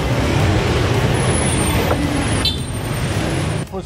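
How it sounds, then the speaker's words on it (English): Street traffic at an intersection at the end of the main street in Seminyak, Bali: a loud, close wash of engines and road rumble with a brief hiss, thinning slightly toward the end. "Check out the traffic. This is the intersection at the very end of the main street."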